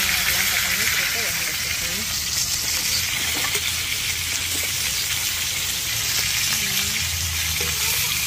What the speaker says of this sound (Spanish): Me encanta freír la cebolla así en el pescado, le hace un sabor tan rico y ajo también.